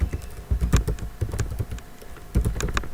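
Typing a name server entry on a computer keyboard during Debian server network setup, quick close bursts of key clicks with a brief pause before a final flurry.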